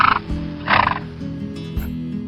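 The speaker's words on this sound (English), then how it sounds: "horse." A horse neighs in a short whinny with a few rising and falling bursts, close and fairly clear, with no talking over it.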